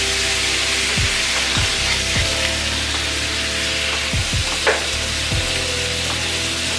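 Frozen food from a fried cabbage and sausage dish melting in a very hot pan, a loud continuous sizzle close by with several sharp scraping stirs of a utensil against the pan, no talking.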